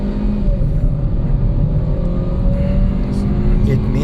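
A 2023 Hyundai i20 1.4 MPi pulls hard under full throttle, its engine a loud, steady rising drone with a climbing tone heard from inside the car while someone talks over it.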